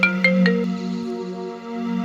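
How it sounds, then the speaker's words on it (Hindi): Incoming call on a phone in a crime drama scene: a loud, sustained electronic ringtone with a few quick beeps at the start, then a steady held tone with no talking. "भाभी जी के नंबर से फोन आ रहा है"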